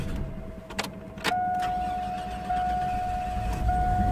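A 1990 Chevy 4.3 engine, just back together after a valve job and head gasket, cranks briefly and catches, then settles into a loud, steady idle with a faint whine.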